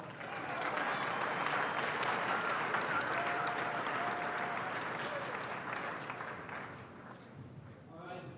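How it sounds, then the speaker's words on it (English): A school assembly crowd applauds at a fine arts awards ceremony, steady dense clapping filling the hall for several seconds before thinning near the end, heard from a distance. "give her a round of applause anyway"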